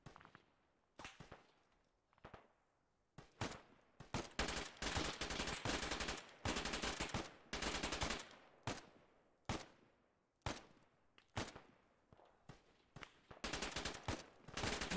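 Gunfire in the military shooter Arma 3 during a compound raid: heavy bursts of automatic fire and single cracks come in clusters over a long stretch, loud and close, with brief quiet gaps between volleys.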